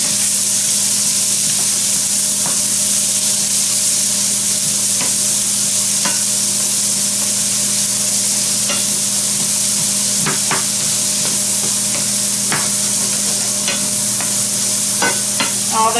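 Orange peppers, onions and half a jalapeño sauté in a pan, giving a steady close sizzle with scattered scraping clicks of stirring throughout, no talking.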